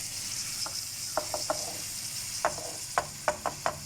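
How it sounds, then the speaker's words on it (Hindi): Chicken with yogurt added a little at a time in a karahi pan, a soft steady sizzle underlying a series of sharp clicking scrapes and taps from stirring, irregular and fairly close. "इसमें चिकन डाल दें, ठीक है जी। थोड़ी थोड़ी करके दही डाल दें"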